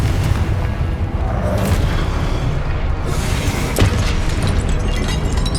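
A Confringo blasting spell goes off in Hogwarts Legacy, a heavy, rumbling explosion that fills the whole stretch with loud booming and crackle, plus a sharper burst partway through.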